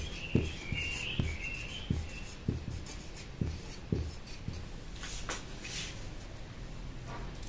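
Quiet scratchy strokes marking sewing pattern lines on paper, a series of short marks in an uneven rhythm, close and soft.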